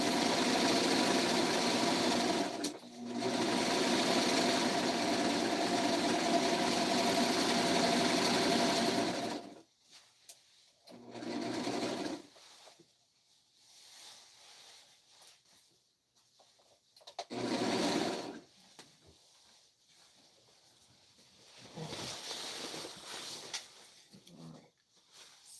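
A sewing machine runs close by in a continuous whirring burst, then gives several shorter runs separated by quiet pauses as it stitches back and forth.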